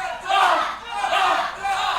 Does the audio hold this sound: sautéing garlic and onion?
no